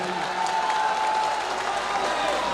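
Applause from a mushaira audience in Bhiwandi, a dense, steady wash of clapping and crowd noise filling the whole moment at close, even loudness.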